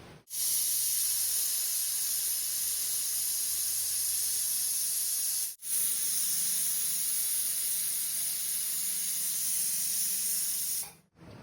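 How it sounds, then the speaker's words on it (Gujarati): A pressure cooker on a medium flame releases steam in a loud, steady high hiss that runs nearly nonstop, broken by two brief gaps. No one talks over it. "હવે 2 વિસલ થઈ ગઈ છે મિત્રો"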